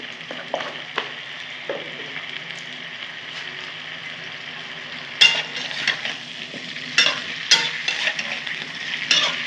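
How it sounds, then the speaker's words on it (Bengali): Cauliflower florets fry in oil with turmeric, giving a steady close sizzle with intermittent stirring scrapes and clinks that grow busier toward the end. "আমি ফুলকপিগুলো ভাজা ভাজা করে নেব। একটু হলুদ দিয়ে ভেজে নেব"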